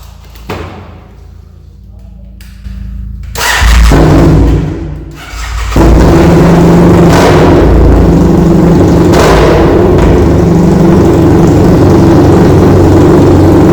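A BMW F800GS motorcycle engine with a cracked frame fires up after a few thumps, then settles into a loud, steady idle running close by.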